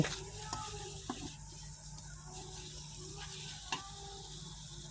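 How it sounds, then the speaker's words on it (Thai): Pork stir-fried with curry paste in a pan for a Lao-style pork curry, a soft steady sizzle with a few faint scrapes and taps of a utensil, quiet and without talk. "ผัดเนื้อหมูกับพริกแกงให้เข้ากันค่ะ"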